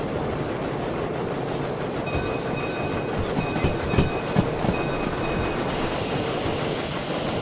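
A steam locomotive in the Derail Valley train game chugs along with a steady rolling rumble and clatter, occasional wheel squeals and faint whistling tones overhead, loud and continuous with no talking.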